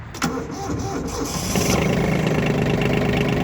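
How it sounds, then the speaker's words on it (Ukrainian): A small tractor with a reverse gear, still on its original, slightly weak battery, cranks briefly and then catches into a steady, loud idle close by in cold weather. "Зараз спробуємо його завести, ще стоїть оригінальний акумулятор."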